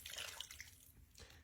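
One and a half cups of water pour into a slow cooker, a soft, quiet splashing gush lasting about a second before fading, then a faint splash at the end.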